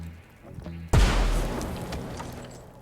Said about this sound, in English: I really need to be careful with those explosions.